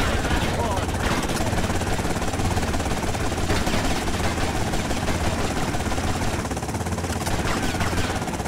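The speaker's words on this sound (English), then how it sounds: "We got a helicopter." A helicopter in the game Grand Theft Auto: Vice City gives a loud, continuous rotor and engine roar that holds steady throughout.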